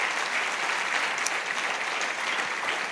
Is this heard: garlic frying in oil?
no